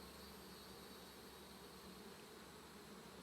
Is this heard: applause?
no